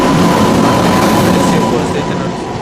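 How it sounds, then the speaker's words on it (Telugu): The Chennai Express, running from Chennai Central to Charlapalli, passes close on the line with a loud, continuous rumbling roar of wheels and carriages that eases slightly toward the end. "సో విష్ణుపురం నుంచి మనకి ఎదురుగా అయితే ఇంకొక ట్రైన్ అయితే వస్తుంది"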